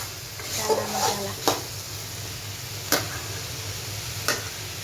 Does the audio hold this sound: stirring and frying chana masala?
yes